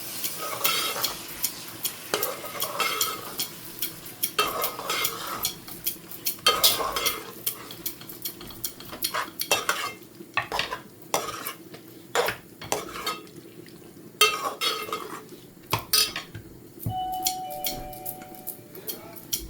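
Tomatoes are stirred in a frying pan, giving repeated scraping and clinking strokes of a spoon against the metal pan in uneven bursts over a soft sizzle, close and fairly loud.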